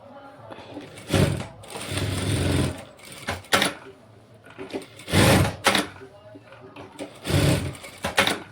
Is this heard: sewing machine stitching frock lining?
yes